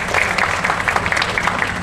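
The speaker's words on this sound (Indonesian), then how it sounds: "Beri tepuk tangan yang meriah sekali lagi, luar biasa." A brief, loud burst of audience applause at a motivational event at Menara 165, many hands clapping densely and steadily, with no talk heard.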